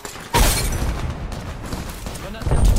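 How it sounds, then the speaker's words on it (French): A frag grenade explodes in the video game Apex Legends, a sudden loud boom that rolls into a rumbling tail, followed by further bursts near the end, with speech mixed in. "Grenade frag lancée."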